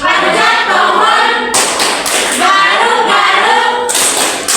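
Hands clap in a classroom clapping game, a few sharp claps landing between voices chanting in rhythm nearby.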